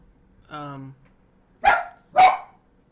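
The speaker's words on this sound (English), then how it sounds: "Got a dog, he's loud sometimes, just bark warning, just so you know." A house dog barks twice indoors, two loud, sharp barks close together after a brief tonal sound, with quiet room tone between.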